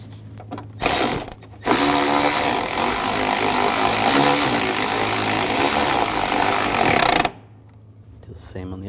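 A power tool buzzes in two bursts, a short one and then a sustained run of several seconds, tightening radiator bolts on a 2008-2012 Jeep Liberty 3.7L V6, close and loud with quiet gaps between.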